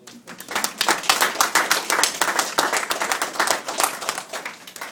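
Wedding guests clap together during a marriage ceremony right after the vows, a lively close round of applause with sharp, rapid hand claps that continues steadily for a few seconds.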